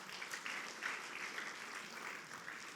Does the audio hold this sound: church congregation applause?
yes